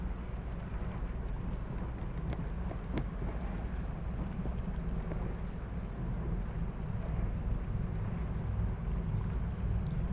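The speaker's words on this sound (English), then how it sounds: "Starting to hear a little more of the engine." The large ship Paul R. Tregurtha's engine rumbles in a steady, deep drone as it arrives at Duluth, Minnesota harbor, mixed with wind noise, slowly building in loudness with no speech.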